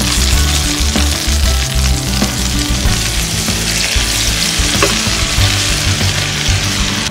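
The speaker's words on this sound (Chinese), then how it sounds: "倒入料汁儿" Sauce poured into a hot pan of frying chicken breast, a loud close sizzle and bubbling crackle that continues steadily with occasional stirring clicks and no talking.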